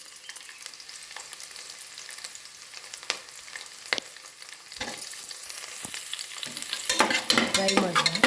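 Four or five green chillies frying in a pan for uppittu, with repeated spatula scrapes and clacks over a low sizzle that grows louder and busier toward the end; no voices.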